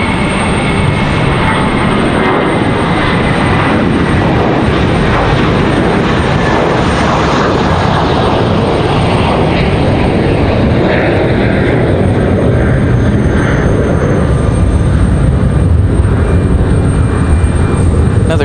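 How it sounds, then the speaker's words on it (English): An Airbus A321 departs Raleigh Durham airport, a loud continuous jet engine roar that stays steady and broadband for the whole stretch, with no talk over it. "Another great sound and departure for another A321."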